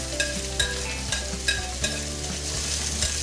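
Carrots, green peppers, snow peas and green onion sizzle in hot oil for chicken lo mein, with a steady loud fry and regular scraping stirs of a utensil against the pan, close and without talk.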